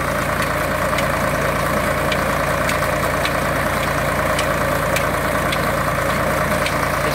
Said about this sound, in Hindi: ये ट्यूबवेल चल रहा है।